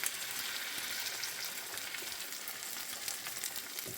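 Eggs frying in a Modern Innovations 10-inch skillet, giving a dense, continuous crackling sizzle that stays close and steady throughout, with no voices.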